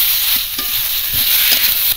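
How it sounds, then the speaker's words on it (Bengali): Vegetables sautéed with spices, mustard paste and chilli powder in a pan for a Bengali chorchori, giving a loud, steady sizzle with a spatula scraping and stirring continuously through it. "এবার মশলার সঙ্গে ভালো করে সবজিগুলো একটু কষিয়ে নেব।"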